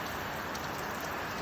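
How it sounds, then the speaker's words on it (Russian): Steady rain falls outside a Russian banya, a dense, even hiss of drops with no breaks, fairly quiet and close. "Град или дождь?"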